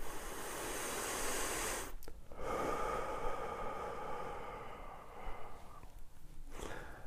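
A long, slow, deep breath drawn in and let out close to the microphone, a soft airy hiss lasting several seconds with a brief pause partway through.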